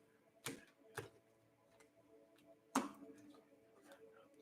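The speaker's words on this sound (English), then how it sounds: "I need to get my crazy shuffle going on here" Tarot cards are shuffled in a quiet room, giving a few sharp riffling snaps at irregular intervals, the loudest near the end, with soft papery rustles between them.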